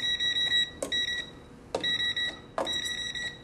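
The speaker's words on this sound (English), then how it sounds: "Take my voltage tester." Handheld voltage tester checking live household receptacles, giving three short electronic beep bursts spaced about a second apart, close and clear with quiet room tone between.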